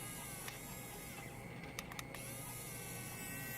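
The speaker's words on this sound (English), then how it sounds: "There it goes. It's feeding in." A 3D printing pen's small motor feeding filament, a faint steady mechanical whir with a few brief clicks and ticks.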